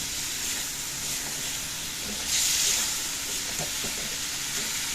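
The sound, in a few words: water added to spices frying in a pan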